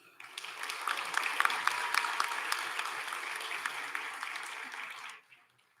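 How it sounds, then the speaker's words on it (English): Audience applause at a graduation and awards ceremony, a dense steady clapping from a large crowd that holds for about five seconds, then cuts off abruptly. "Please give another round of applause for all the awardees."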